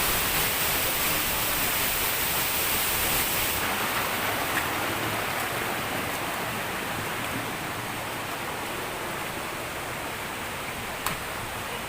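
The Lanzones Falls waterfall on Mt. Romelo in Laguna, heard as a steady, broad rushing hiss of falling water that stays even and fairly close, with no talk over it.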